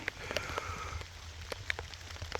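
Rain patters steadily at an old 1880s train station site in Maine, a soft continuous hiss with scattered louder drops, fairly quiet with no talking.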